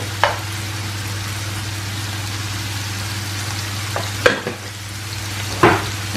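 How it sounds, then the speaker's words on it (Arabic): Minced meat filling fries in a pan with a steady low sizzle, broken by a few sharp scraping clanks as it is stirred with a ladle. "اذا نقلي كلش مليح."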